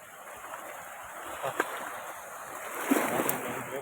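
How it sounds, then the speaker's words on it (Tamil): Strong current of the Kaveri river in Erode, a continuous rushing flow with occasional splashes, moderately near and fairly soft, swelling slightly toward the end. "காவேரி எந்த அளவுக்கு தண்ணி போகுது பாரு"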